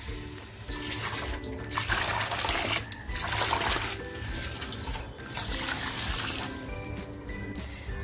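Water pours and splashes over urad dal and rice in a kitchen vessel to soak them, close and fairly loud, in several bursts with short pauses between.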